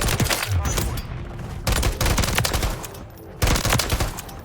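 An SVA 545 rifle fires rapid automatic bursts in Call of Duty MW3, three loud, close volleys separated by short pauses, with faint talk in the background.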